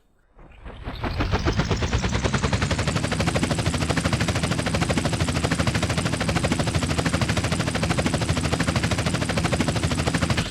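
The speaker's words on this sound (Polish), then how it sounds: "they're getting a helicopter to do a couple of flybys of the ship" A helicopter in GTA San Andreas flies by a ship, its rotor chop rising quickly to a loud, dense, rapid thumping that holds steady throughout.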